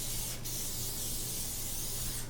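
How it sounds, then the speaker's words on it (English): Cooking spray hisses in one continuous, steady burst onto a whole raw chicken, close and even in loudness throughout, with no talking. "we're going to spray this guy down with some cooking spray"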